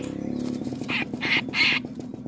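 A streak-eared bulbul gives three loud, bright, ringing calls in quick succession, each a short burst, close by over a low buzzing background, in Ubon Ratchathani, Thailand.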